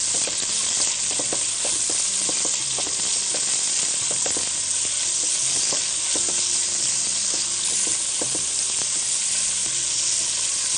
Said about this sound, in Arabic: تمام، نشوح بس الفراخ كده.